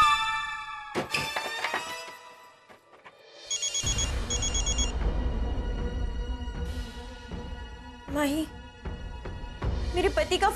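A telephone rings with bright, repeated electronic tones, mixed with clanging and other noises, while people talk around it.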